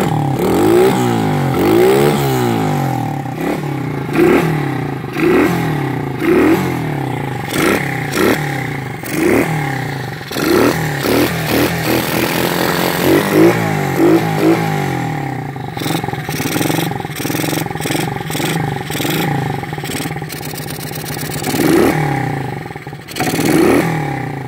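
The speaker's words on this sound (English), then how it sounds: "these engines rev pretty high" An SSR 110cc pit bike engine revs repeatedly to high pitch and drops back, loud and close, with rattling clatter from a shaking chain.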